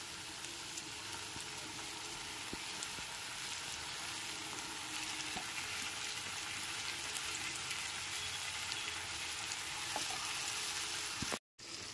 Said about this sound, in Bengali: এরপর এর মধ্যে ম্যারিনেট করা চিকেনের টুকরোগুলোকে দিয়ে দিচ্ছি।